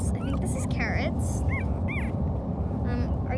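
Newborn puppies whimper while nursing, with several thin, high squeaky cries and short yips scattered over a steady low background rumble, close by and fairly loud.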